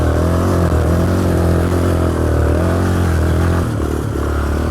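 A Yamaha Raptor 350 quad's engine runs loud and close with a steady throaty drone and slight throttle variation throughout, no voices over it.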